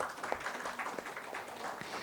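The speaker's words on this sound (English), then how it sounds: "Please give a huge round of applause as I call the speaker's name" An audience gives a speaker at the GFF'25 conference a round of applause, with a fairly faint, continuous patter of clapping filling the short stretch.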